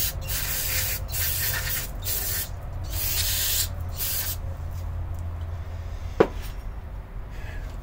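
A motorcycle slide-style carburetor bowl is rinsed out with bursts of spray, several loud hissing blasts in a row, followed by quieter handling and a single sharp clink.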